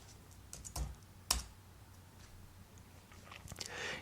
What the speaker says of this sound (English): Let me type that in right.